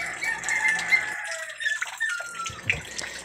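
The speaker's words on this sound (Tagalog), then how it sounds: "Sagutan ng mga manok sa pagtilaok. Parang alarm clock. Sabay-sabay." Several roosters crow one after another outdoors on a backyard farm, calls overlapping in a loose, alternating chorus with some water trickling faintly behind.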